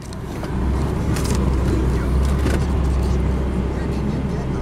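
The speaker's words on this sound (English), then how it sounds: "Transmission engages smoothly." A car with 119,000 miles runs with a steady, quiet low rumble after its transmission engages, the engine note constant throughout with no revving.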